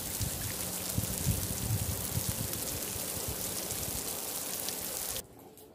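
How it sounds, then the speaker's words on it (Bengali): Light drizzling rain falls under a cloudy sky, a soft, even hiss of drops that carries on steadily for several seconds, then cuts off abruptly. "এখন আবার মেঘ করেছে আর ঝিঝির ঝিঝির বৃষ্টি হচ্ছে।"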